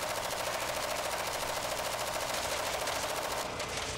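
Rapid, sustained gunfire from a mounted gun in Resident Evil 6, a dense continuous loud rattle of shots that runs without a break from start to finish and sits close and prominent.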